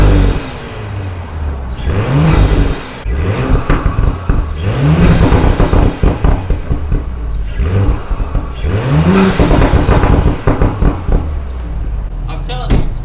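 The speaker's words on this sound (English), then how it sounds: "Cold start. The muffler's doing everything." An Audi SQ5 with a modified exhaust and muffler cold-starts and idles with a loud, deep rumble, revving up several times in rising surges.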